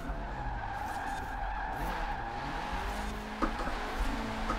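A car slides sideways in Forza Horizon 4, driven with a Logitech G920 wheel, its tires skidding in a steady screech over a continuous engine drone, with a brief louder scrape near the end.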